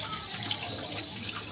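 Peas and potatoes are rinsed under a running kitchen tap, a steady close hiss of streaming water splashing in a sink.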